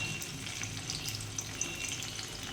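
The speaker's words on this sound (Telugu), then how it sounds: "ఇందులోనే ఉల్లిపాయలు వేస్తున్నా" Onions frying in oil with cloves and a piece of cinnamon for a mutton fenugreek curry, a soft steady crackling sizzle with light stirring clicks, fairly quiet and without speech.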